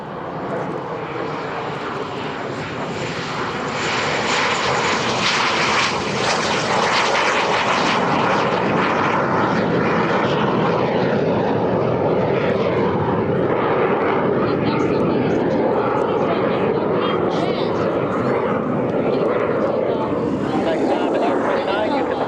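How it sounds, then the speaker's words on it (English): An L-29 Albatross Soviet-bloc jet trainer takes off at an airshow, its loud, roaring jet engine sustained and steady for about twenty seconds. "This is the L29 Albatross"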